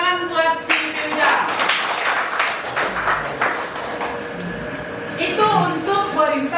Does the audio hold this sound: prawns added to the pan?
no